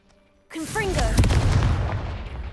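A Confringo fire spell from Hogwarts Legacy erupts suddenly into a loud, sustained fiery blast with a rising whoosh and booming low rumble that holds steady for about two seconds.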